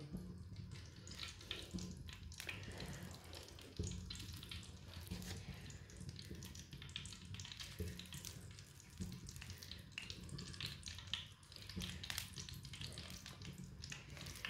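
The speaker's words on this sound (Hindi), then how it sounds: "ऑयल हमारा अच्छी तरह गर्म हो चुका है। अब इसके ना पकोड़े तैयार कर लेंगे।" Small portions of hariyali pakora batter dropped into hot oil produce a faint, continuous bubbling sizzle with soft irregular crackles, quiet and steady throughout.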